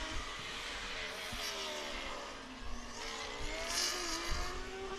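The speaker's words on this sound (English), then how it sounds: "That car, that noisy car, is from year 2009." A 2009 Formula Student race car revs hard on track during a 2024 Formula Student Spain endurance race, its engine note rising and falling loudly and close by for the whole stretch.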